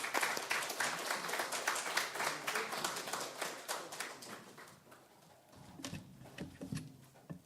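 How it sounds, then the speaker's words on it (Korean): A church congregation claps together at a Christmas service, giving dense, close applause that thins and quiets near the end into a few scattered claps. "하나님께 영광의 박수를 드리겠습니다"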